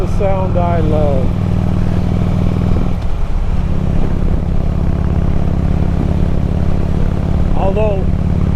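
A Harley-Davidson motorcycle engine idles nearby, a steady, loud low throb that holds constant throughout with a few brief higher chirps over it.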